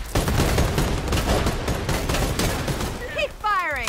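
Dense rapid gunfire in a video game chopper battle against pirates, loud bursts of automatic fire rattling continuously for several seconds before a shouted voice cuts in near the end.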